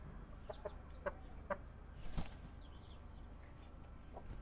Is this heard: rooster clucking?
yes